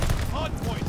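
Dense gunfire in Call of Duty Vanguard, a continuous loud rattle of overlapping shots with no clear pause.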